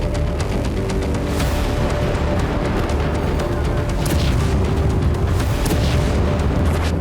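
Bombing in the Dahiya area of Beirut: a dense, continuous rumble of heavy booms with sharp bursts and crackles layered throughout, loud and sustained without any voices.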